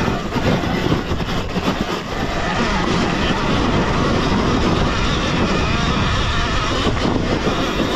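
A Sur-Ron Ultra Bee electric dirt bike climbing a loose hill, a loud continuous motor whine mixed with wind rush and dirt noise, steady for the whole stretch.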